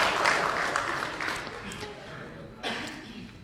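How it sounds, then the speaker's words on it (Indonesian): Applause rises for Ibu Ega at an Indonesian parliamentary Commission III public hearing, a burst of clapping that fades away under a speaker's voice, with a short flurry returning near the end. "Tepuk tangan dulu buat Ibu Ega."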